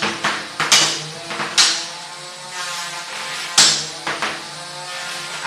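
Combat robots slam into each other at a bot battle, several sharp metallic bangs and clanks arriving in irregular bursts over a bright whirring hum of spinning weapons.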